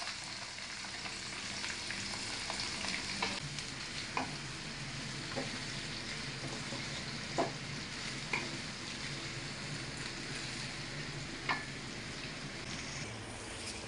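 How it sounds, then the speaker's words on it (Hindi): Chopped onions fry in hot oil with cinnamon, bay leaves and cloves for a mutton karahi. A steady, close sizzle runs throughout, broken by a few sharp clicks as a spoon stirs the pan. "और इनको अच्छी तरह हिलाएंगे और इसमें प्याज डालेंगे।"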